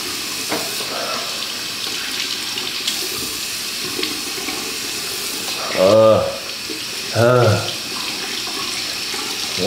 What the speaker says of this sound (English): I'm about to sink my face in the water.